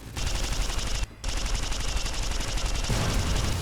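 Rapid automatic weapon fire from a high-rate gun in Fallout: New Vegas, a dense continuous rattle of about thirty rounds a second, loud and close, with one brief gap early on before the fire resumes.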